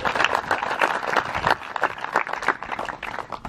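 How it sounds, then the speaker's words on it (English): Applause at a wedding ceremony for the newlyweds, a steady wash of clapping from the gathered guests lasting throughout, moderately loud and close, with no talk over it. "give him a round of applause,"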